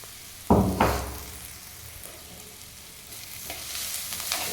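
Ginger garlic paste sautéing with onions in a pan, a soft steady sizzle with a couple of louder scraping stirs near the start, close by, with the frying hiss swelling slightly toward the end.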